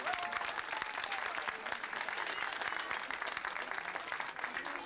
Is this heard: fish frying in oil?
no